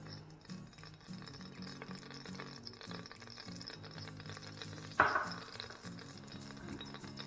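Oil and ghee heating together in a pan, a soft steady sizzle with faint crackles, and a sharp clatter about two-thirds through as something is set down or stirred.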